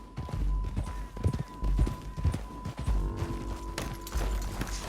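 Horse hooves clip-clopping at a steady walking rhythm in Red Dead Redemption 2, close and clear with a faint background hum.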